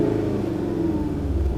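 Held at high revs for a manual launch, a Volkswagen Golf R engine drones loudly and steadily with a deep rumbling undertone, close by.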